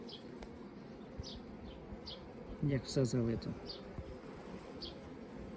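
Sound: honeybees buzzing at hive

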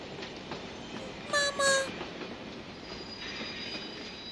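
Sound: train approaching

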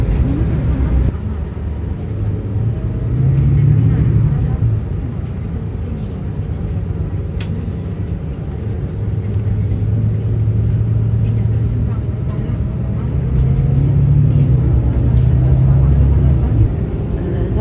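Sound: car driving on road from La Orotava, Tenerife

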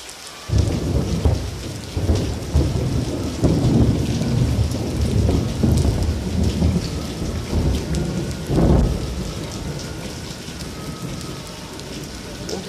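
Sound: thunderstorm with heavy rain

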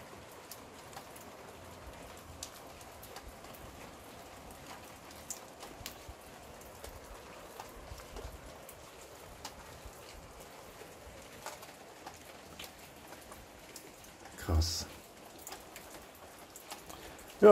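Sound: rain falling in a garden on Madeira

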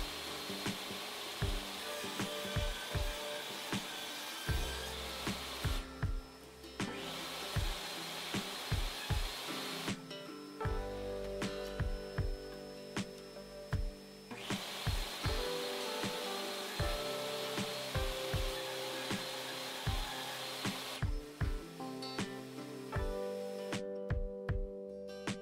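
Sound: table saw cutting dado in wood

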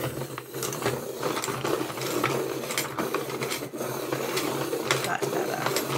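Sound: colored pencil being sharpened in a sharpener

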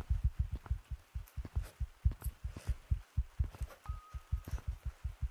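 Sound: heartbeat pounding sound in Gorilla Tag video game

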